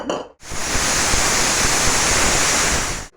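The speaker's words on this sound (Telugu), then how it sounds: "వాటర్ పోసుకుని" Water is poured into a pot of country chicken curry, a loud, steady rushing splash that holds for about three seconds and then stops, with no voices.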